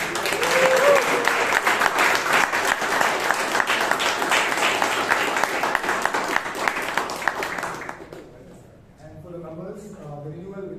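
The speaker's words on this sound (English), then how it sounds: "Please give her a huge round of applause." Audience applause at a Toastmasters meeting in Bangalore, a dense, steady round of clapping lasting about eight seconds before fading out as a voice begins speaking.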